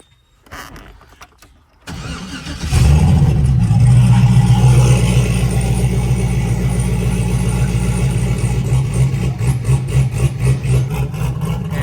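Turbocharged LS V8 in a Camaro cranks over and fires up loudly after a brief quiet moment, then settles into a steady, rumbling idle close by with no talking.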